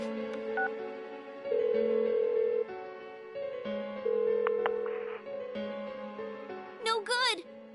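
Phone dialing tones from Persona 4 Golden, a string of short keypad beeps over a steady game music bed, ending in a brief warbling burst.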